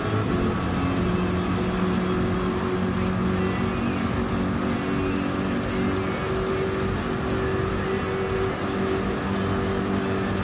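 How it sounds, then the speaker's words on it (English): A thirsty V8 race car engine in Gran Turismo 7, a loud, steady drone that holds at high revs throughout with slight rises and falls, alone without talk. "Just listen to the thirsty V8."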